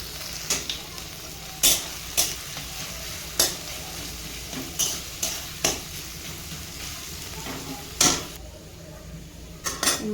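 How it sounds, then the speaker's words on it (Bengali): Onion fries in oil while being stirred, a low continuous sizzle punctuated by repeated sharp spatula clacks against the pan at irregular intervals, close and fairly quiet. "পেঁয়াজটা সবে দিয়েছি, এটা ভালোভাবে নেড়ে চেড়ে লাল করে নিতে"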